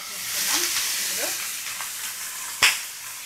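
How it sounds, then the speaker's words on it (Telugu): Cubes of paneer fry in about a tablespoon of oil in a pan, producing a constant soft sizzle with a sharp utensil tap near the end and no talking. "ఇప్పుడు పన్నీర్ని కొంచెం కలర్ వచ్చేంత వరకు ఫ్రై చేసుకోవాలి"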